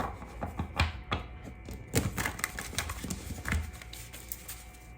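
Tarot cards are shuffled in quick riffling bursts, with sharp papery clicks and rustles at close range.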